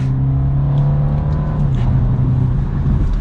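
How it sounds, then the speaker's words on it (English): Steady engine drone from inside a 2023 BMW 230i as it downshifts into third gear for a turn, a continuous mid-pitched hum heard close and fairly loud without speech. "as we downshift now, 3rd gear around this turn"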